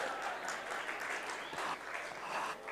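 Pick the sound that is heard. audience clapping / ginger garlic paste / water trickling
audience clapping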